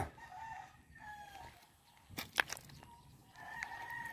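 Chickens kept for meat cluck softly in the background, then a rooster crows loudly in a short burst with further faint clucks and calls afterward, fairly quiet overall.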